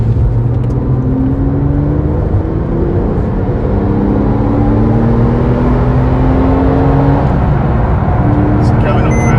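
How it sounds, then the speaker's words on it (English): A 2006 Porsche 911 997 Carrera 4S with a manual gearbox pulls hard through the gears, engine tone climbing repeatedly with each shift, loud and steady as heard from inside the cabin, with someone talking over it. "So going up through the gears"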